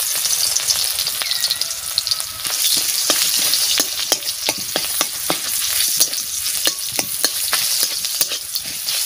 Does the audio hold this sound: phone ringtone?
no